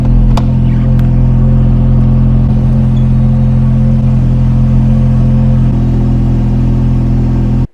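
A Ferrari F430 engine idles steadily while warming up, with a deep, constant rumble and a low hum, running continuously without much change in pitch.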